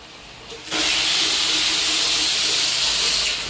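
A shower sprayer at a Philippines beach house bursts on abruptly and then runs as a loud, steady hiss of misting water spray, heard alone with no talking.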